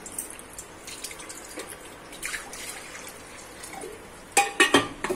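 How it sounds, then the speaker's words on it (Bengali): Water poured into a wok for steaming letha fish, with faint clinks at first and then a short, louder splashing pour near the end. "কড়াইতে কিছুটা জল দিয়ে দেবো।"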